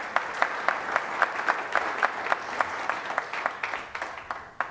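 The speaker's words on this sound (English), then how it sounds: "can we give them a round of applause?" A room of people at a city council meeting claps in steady, moderately loud applause that tapers slightly toward the end, with no voices over it.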